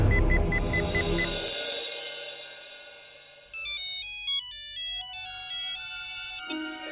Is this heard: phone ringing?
yes